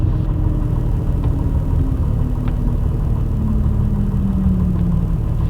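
Piper Comanche 250 light aircraft engine running steadily while the plane taxis on a runway, a constant close, loud droning rumble with a slowly gliding tone and no talk.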